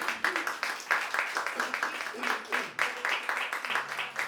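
A church congregation claps loudly and steadily together, a dense run of hand claps filling the room while a voice calls out over the applause.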